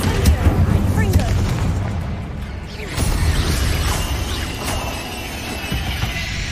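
Confringo spell explosions in Hogwarts Legacy, dense booming blasts and crashing debris layered with other spell effects, loud and continuous with a fresh surge midway.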